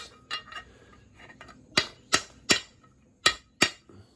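Metal hammer taps driving a bearing into place during a 2000 Yamaha YZ250 dirt bike build, a series of sharp, close strikes in uneven rhythm, several lighter taps first then five harder blows.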